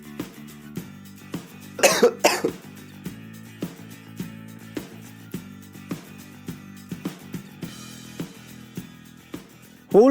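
Two sharp, close coughs in quick succession rise over a soft, steadily pulsing background melody, which then continues alone.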